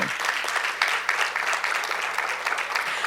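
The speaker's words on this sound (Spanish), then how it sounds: "si van a darle un aplauso a Dios, dáselo bien" A crowd applauds continuously, dense clapping at a steady level throughout with no talking.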